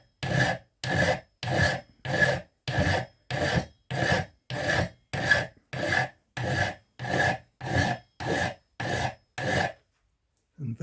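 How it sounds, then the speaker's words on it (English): A coarse file rough-shapes a ratchet pawl for a two-way ratchet mechanism in about fifteen slow, steady, evenly spaced rasping strokes, close and clear, with nothing else heard. "Quite a coarse file to start with, and it's just a fairly sort of slow and steady business of getting rid of all those bits."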